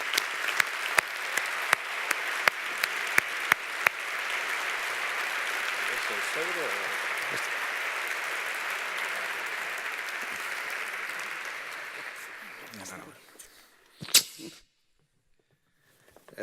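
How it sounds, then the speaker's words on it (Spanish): Sustained audience applause fills a conference hall at a national congress of business executives, steady and dense for about thirteen seconds before fading out, with a brief burst of noise near the end. "escenario con un aplauso"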